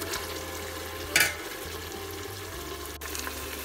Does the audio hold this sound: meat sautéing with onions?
yes